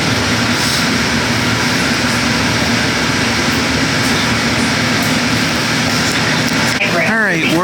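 A Hudson-Bergen Light Rail train pulling out of a station between Hoboken and Bayonne, a loud, steady rumble and whir of motors heard from inside the car, rising to a tonal whine near the end.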